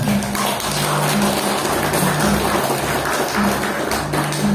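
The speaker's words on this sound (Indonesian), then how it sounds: "Tepuk tangan Bapak Ibu semuanya" Sustained audience applause at an inauguration ceremony for a community association, dense and continuous clapping with a steady low hum running underneath.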